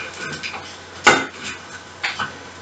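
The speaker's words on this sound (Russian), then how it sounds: "пока я мешаю макароны." Macaroni being stirred in a frying pan as it browns, with a few sharp scrapes and clinks of a utensil against the pan, two louder strokes standing out over a quiet background.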